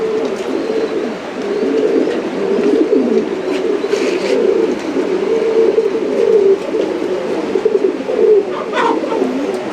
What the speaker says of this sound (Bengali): জোড়ায় জোড়ায় এখানে কবুতর আছে